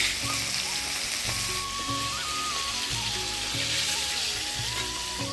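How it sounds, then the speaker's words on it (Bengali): Hilsa fish being lightly fried in oil in a pan for mustard hilsa, giving a loud, continuous close-up sizzle that runs through the whole clip, with a melodic background tune playing underneath. "তো মাছটা প্রথমে আমি একটু হালকা ভাজে নিব।"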